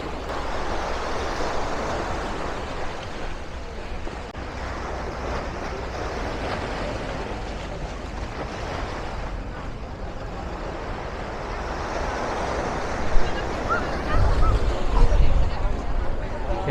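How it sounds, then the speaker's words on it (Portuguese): River water on the Tagus by Praça do Comércio in Lisbon laps at the shore like sea surf, a continuous washing rush with wind and a babble of crowd voices throughout. "Vê se não é barulho igual de mar."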